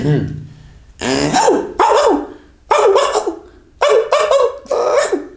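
A person imitating a dog's barking, with a run of loud, voiced, yelping bark-like bursts in uneven rhythm, up close, with no other speech around them.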